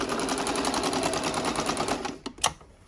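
A New Home 365c sewing machine stitches a zigzag in a fast, steady mechanical run that stops near the end with a couple of sharp clicks, close and alone.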